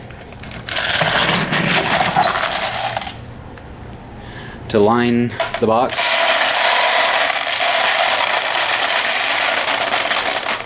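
Litter being scooped into a rabbit litter box gives a burst of rattling, grinding scrapes that stop and start, with a person talking over parts of it.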